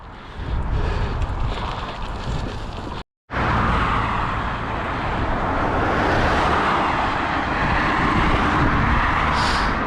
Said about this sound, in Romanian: Traficul încă, însă, este destul de aglomerat, inclusiv camioane.